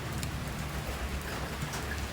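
Rain falls steadily in the background, a soft, even hiss of drops on surfaces with no gaps and no voices.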